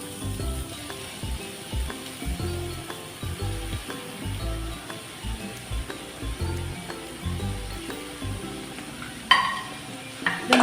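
Chopped leaves stirred and sautéed in a pan over low flame, a steady soft sizzle with repeated scraping and clinking of a spoon, close and moderately quiet, ending in a few louder clatters.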